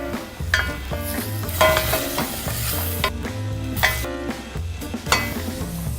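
Chopped onions frying in a tablespoon or two of olive oil, sizzling steadily and close with stirring scrapes running throughout; no one speaks.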